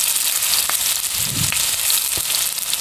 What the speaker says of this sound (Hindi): लो फ्लेम पर मीडियम आंच पर बिल्कुल खूबसूरत से गोल्डन फ्राई करें